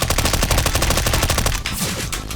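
Gunshots in the video game CSGO: a loud, fast burst of automatic rifle fire with evenly spaced cracks for about a second and a half, then a few trailing shots, no talking.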